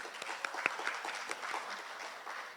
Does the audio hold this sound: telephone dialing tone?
no